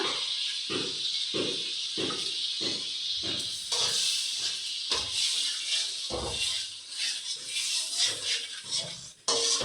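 Steady loud hiss of ginger paste frying in hot oil, with rhythmic scraping of a spatula against the pan throughout.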